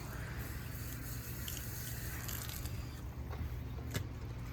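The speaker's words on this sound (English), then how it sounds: "I'm gonna soak this microfiber." Microfiber rag being soaked in water for detailing a VW Atlas, a steady wet rush like running tap water with faint squishing and a few drips, close and continuous with no talk.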